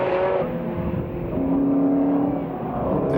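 TVR Tuscan race cars at Silverstone in a 1995 Tuscan Challenge round, a loud steady engine roar with a rising pitch as a car holds speed, heard close and without talk.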